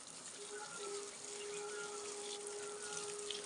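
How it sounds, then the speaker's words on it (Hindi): Water runs steadily from a household tap in a hill village home early in the morning, a continuous close rushing flow with a faint tonal hum beneath it. "पानी आ गया है"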